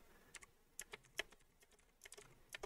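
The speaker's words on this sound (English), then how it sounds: "mechanical keyboard" Rapid clicks of keys on a mechanical keyboard at a computer, irregular bursts of separate sharp keystrokes with short pauses, close and fairly quiet, no talking.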